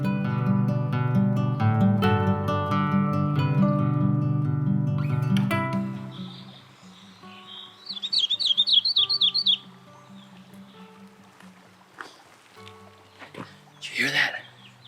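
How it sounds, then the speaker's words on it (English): A painted redstart gives a short burst of rapid, sharp chirps from just overhead near the middle, after a stretch of music, with faint rustling and scattered clicks. "That's the painted redstart."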